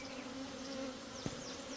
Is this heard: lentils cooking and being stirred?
no